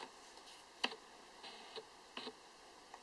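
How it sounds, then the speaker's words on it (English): Quiet, intermittent ticking and brief whirring bursts of an 18-55mm DSLR kit lens autofocus motor, a few separate clicks against near silence. "Sorry for the focus noise"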